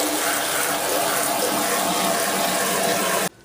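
Water runs steadily and loudly while a Hammarlund S-100 radio speaker cloth is scrubbed, a dense hissing wash that cuts off abruptly just before the end.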